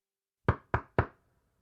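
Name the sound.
knocking at the door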